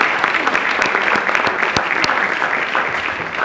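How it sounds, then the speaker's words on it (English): Steady applause from a standing crowd at a Chicago City Council meeting, dense clapping filling the room throughout with a few sharper individual claps standing out. "And we can clap too."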